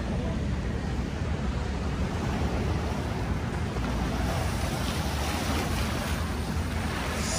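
Rough sea waves at Manila Bay along the Baywalk wash in as a steady broadband rush under a gusty wind, with no clear breaks between swells and no voices.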